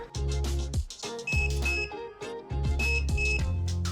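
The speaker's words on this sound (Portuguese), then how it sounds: "Então ele bipa, ele muda de cor, ele cria essas interações na tela" Electronic hookah heating device, the Xkah, fitted to a Regal Joker hookah, emitting a couple of short, bright beeps spaced apart over a loud musical backing.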